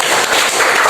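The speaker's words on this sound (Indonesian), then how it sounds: "Tepuk tangan untuk kelompok 2." A school class in Cengkareng applauds a student group: dense, loud clapping from many hands close by, steady for a moment with no voices standing out.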